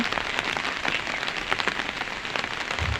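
Steady rain falls outdoors on a kitchen garden of pumpkin plants, a dense continuous patter close by with scattered sharper drops and no voices.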